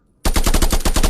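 Loud, close bursts of AK rifle fire in a VR first-person shooter game, a rapid automatic string of sharp cracks starting abruptly after a brief quiet moment and continuing steadily to the end.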